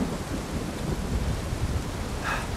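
In the Uncharted 4 game, heavy rain hisses steadily with a low rumble of thunder underneath, a dense, constant wash of sound with no voices over it.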